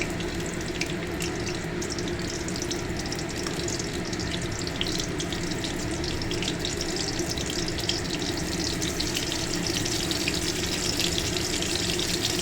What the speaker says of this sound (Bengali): চিংড়ি মাছগুলো ভাজা বসিয়ে দিচ্ছি।